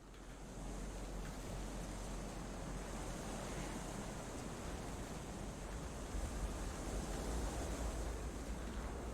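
Steady broadband rush of river water flowing in the game Kholat, a continuous even wash with a low rumble underneath, no voices present.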